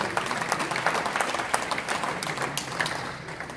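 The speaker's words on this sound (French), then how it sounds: "Est-ce qu'on peut acclamer très très fort?" Audience at a church couples' celebration clapping and cheering loudly, a dense steady wash of applause with scattered louder claps, no speech on top.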